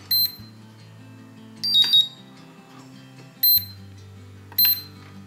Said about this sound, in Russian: Он прозвучал звуковой сигнал о том, что она заряжена.